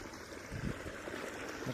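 Irrigation water runs into a chickpea field on a farm, a soft, steady trickling flow heard close by at a low level with a slight swell midway.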